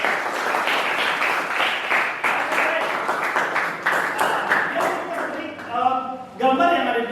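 A classroom of students applauding a classmate, dense clapping that carries under a teacher's voice, which keeps talking throughout.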